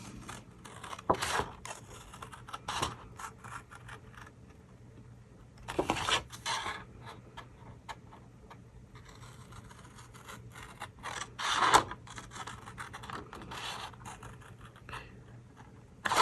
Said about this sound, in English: I'm just going to use my scissors and use a craft knife